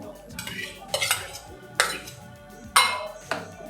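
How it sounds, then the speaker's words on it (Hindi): A spoon clinks and scrapes against a bowl while boiled sago is stirred into a mango dessert, with a few sharp clanks and softer mixing sounds between them. "चलिए अच्छे से मिक्स कर लेंगे।"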